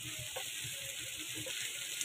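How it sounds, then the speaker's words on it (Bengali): Okra and shrimp frying together in a pan make a steady, close sizzle with faint crackles throughout, no voices present. "ঢেঁড়স ভাজি করতেছি চিংড়ি মাছ দিয়ে।"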